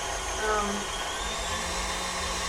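An electric stand mixer whirring steadily as it mixes chocolate cupcake batter, a close, even motor whine with faint voice-like tones mixed in briefly.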